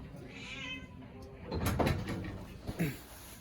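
A cat meows in a small, cluttered shop. Several close, fairly soft calls are mixed with a person talking and a few knocks and cupboard-like thumps.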